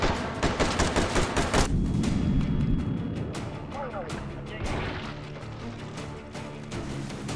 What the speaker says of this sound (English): So many flashbangs.